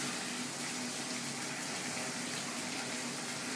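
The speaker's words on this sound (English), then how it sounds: "we will drain the tank and press the fill button" A commercial dishwasher tank filling with water after the fill button is pressed, a steady loud rush of inflowing water with a low pump hum beneath, unbroken throughout.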